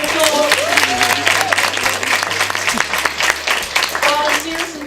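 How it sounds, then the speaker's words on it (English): An audience at a young writers workshop event applauds steadily for Dr. Velma, a broad crowd clapping that runs throughout with voices and a low hum mixed in. "So can we give her a round of applause?"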